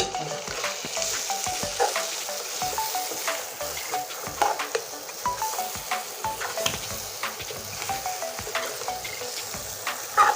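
Raw green mango slices fry in a pan with steady, close sizzling and crackling, and frequent spatula scrapes and stirring clicks run throughout.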